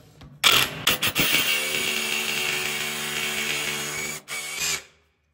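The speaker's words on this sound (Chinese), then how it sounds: "这个孔呢，我们就用冲击钻头再加深一下就可以了" An impact drill boring into brick behind tile starts with a few short bursts, then grinds steadily for several seconds, pauses briefly, runs once more and stops, close and loud.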